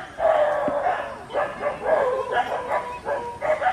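Dog barking on Radhanagar Beach, Havelock Island in the Andamans, a run of repeated yapping barks close by, loud and continuous over outdoor wind and beach ambience.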